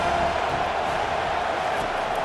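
Stadium crowd noise in EA Sports College Football 25 during a UCLA at Penn State game, a steady broad roar of cheering fans rising behind the defense on a big third down, continuous and fairly loud with no clear talk.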